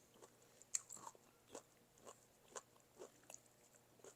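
Chewing chicken gizzard served with noodles, heard as close, quiet, rhythmic crunchy bites about twice a second, faint and alone without speech.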